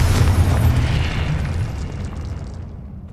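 Confringo fire spell exploding in Hogwarts Legacy on PS5: a loud, deep boom that rolls on as a long rumbling blast and slowly fades over a few seconds, with no talk.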